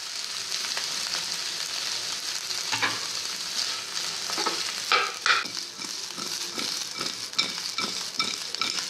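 Salted potatoes sauté in a pan for a fasting-day potato bhaji, a constant sizzle punctuated by scraping, clattering stirs of a spatula close by.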